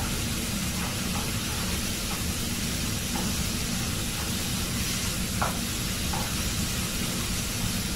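Green chillies sauté in a pan for Kerala-style squid thoran, giving a steady, moderately faint hiss with occasional soft ticks and no speech.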